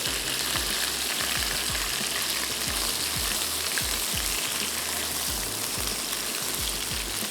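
Fish fries in a pan with a loud, continuous crackling sizzle, close up and steady throughout, with faint low knocks underneath and no speech.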